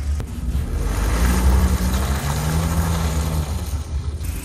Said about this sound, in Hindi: जो मेरा व्हील था, लेफ्ट वाला व्हील जो था, वहाँ पर ट्रैक्शन कम था, तो वहाँ पर पहले स्पिन हुआ